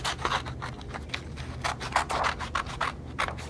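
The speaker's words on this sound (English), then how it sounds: "you take your scissors and you cut" Scissors snip along a drawn line on paper for a gingerbread cookie collage craft, a close, quick series of crisp cutting strokes with papery rustling between them and no talking.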